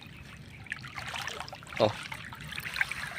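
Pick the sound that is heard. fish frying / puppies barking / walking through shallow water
walking through shallow water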